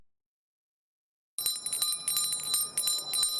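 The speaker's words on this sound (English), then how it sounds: "The familiar tone of the Salvation Army's bell ringers" Salvation Army bell ringer's hand bell shaken in rapid, bright metallic rings that start suddenly after a stretch of silence and continue steadily, clear and close.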